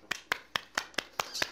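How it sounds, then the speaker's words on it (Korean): Six sharp hand claps spaced evenly, as from a single person clapping alone in a quiet room, fairly faint and close. "박수."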